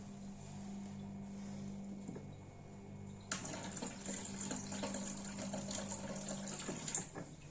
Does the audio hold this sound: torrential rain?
no